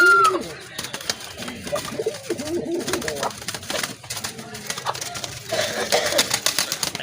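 Madrasi golla pigeons coo in soft, repeated throaty calls close by, with rustling and scattered clicks and knocks around them and no clear talk.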